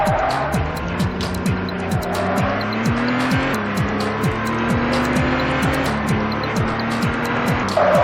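A car in The Getaway video game drives hard, its engine revving through repeated gear shifts while tires squeal in long skids, loud and close with no talk.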